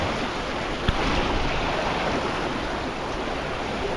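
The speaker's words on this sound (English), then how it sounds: "there's actually a hidden waterfall right here. It's actually called Hidden Falls. And it comes down into the river" Hidden Falls, a waterfall in Glacier National Park, pours into a river with a steady, dense rushing wash that stays even and fairly close throughout, with one brief knock partway through.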